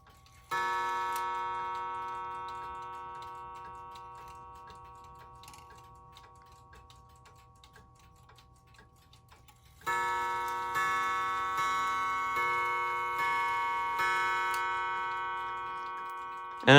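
Welch mantle clock with a Brocot escapement ticking steadily and clearly, with bright chime-like ringing tones sustained in the background that fade and then return more strongly partway through.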